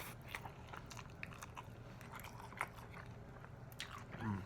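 Someone bites into a fresh jalapeno and chews it close to the mic, giving a crisp crunch followed by soft, wet chewing, quiet and without talk.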